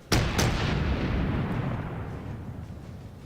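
Cruiser guns firing in World of Warships, a naval combat game: two sharp booming salvos close together at the start, each followed by a long rumbling roar that slowly fades.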